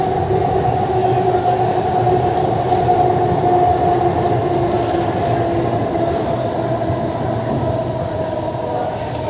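Kolkata East-West Metro train running between Sealdah and Sector V, a steady loud rumble with a sustained tonal whine of motors and wheels, continuous throughout with faint clatter.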